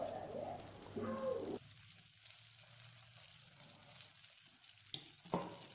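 Kuli paniyaram batter sweetened with jaggery sizzles gently in a pan over a low flame. The soft frying hiss is steady, with a few faint clicks and clatters.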